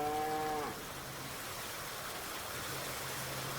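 In Farming Simulator 19, a single drawn-out cow moo opens, harmonic and clear, fading within a second into a steady watery hiss with a low hum underneath.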